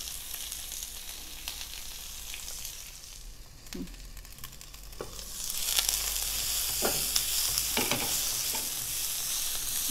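Onions and green chillies fry in a pan, a continuous close sizzle broken by a few scraping stirs, with the hiss growing louder and brighter halfway through.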